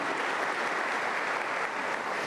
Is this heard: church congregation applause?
yes